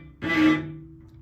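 A single bowed cello note played with too little weight in the first finger, entering abruptly and sounding rough and strained with a buzzy, unfocused tone, then thinning to a lingering low ring as the bow eases off.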